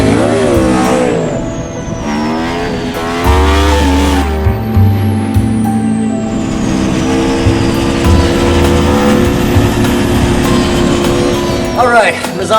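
An Aprilia RSV4 RF superbike with Öhlins suspension and forged aluminium wheels rides the Misano circuit, its engine droning and rising steadily through revs with shifting pitch, loud and continuous, with another vehicle's passing whine in the background.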